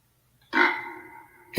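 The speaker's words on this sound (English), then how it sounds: "That was a burp." A single short, low burp comes through a spirit box in a quiet room, rising abruptly and fading over about a second, followed by a sharp click of static.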